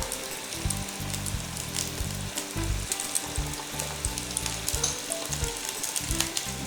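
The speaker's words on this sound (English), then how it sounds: "So first we're going to put in the beans." Whole green beans frying in a hot oiled pan, a steady dense sizzle with faint crackling pops running alone throughout at moderate loudness.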